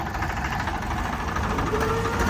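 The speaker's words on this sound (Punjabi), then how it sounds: "ਜੋੜ ਜੋੜ ਕੇ ਟਰੈਕਟਰ ਸਟਾਰਟ ਕਰਦੇ ਆ" A Swaraj 855 tractor engine idling up close, a steady loud low rumble with a knocking diesel throb throughout, no voices.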